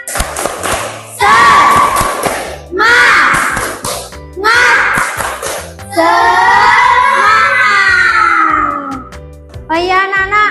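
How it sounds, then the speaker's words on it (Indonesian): Schoolchildren in a madrasah classroom perform a rhythmic spirit-clap chant, loud bursts of unison clapping patterns alternating with shouted sung phrases, repeated in several rounds close by. "Tepuk semangat."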